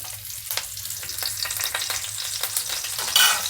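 Curry leaves crackling in hot oil in a pan before fish is fried, a close sputtering sizzle with scattered sharp pops and stirring scrapes, flaring briefly louder near the end; nobody speaks.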